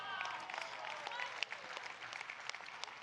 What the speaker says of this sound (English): Give Kyle a big round of applause.